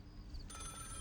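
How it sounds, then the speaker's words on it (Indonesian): A landline house telephone ringing: a brief electronic ring tone that starts partway through, fairly faint over a low background hum. "itu telepon rumah lo."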